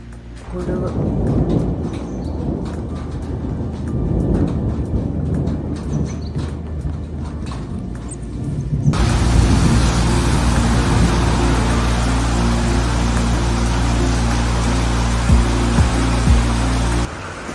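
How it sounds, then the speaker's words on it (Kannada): Hailstones falling on a house roof during a rainstorm, producing a dense, steady clatter that grows louder and fuller partway through, heard close up with voices talking over it. "ಆಲಿಕಲ್ಲು ಮಳೆ ಆಗಿರ್ಬೋದು ಇದಕ್ಕೆ ಸೌಂಡ್ ಕೇಳುದು ನೋಡಿ ದೊಡ್ಡ ದೊಡ್ಡ ಕಲ್ಲು ಬಿದ್ದಾಗಿ ಬೀಳ್ತಾ ಉಂಟು"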